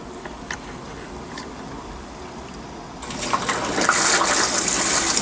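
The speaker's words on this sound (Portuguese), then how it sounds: "ela começou a encher para fazer o primeiro enxágue" A Consul 16kg washing machine starting to fill with water for its first rinse: quiet ticking and faint mechanical sounds give way to a loud, steady rush of water pouring into the drum.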